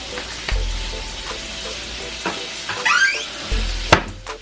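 Mexican rice with paprika is stirred in a frying pan over a constant close sizzle, with a few sharp utensil scrapes and knocks against the pan and no voices.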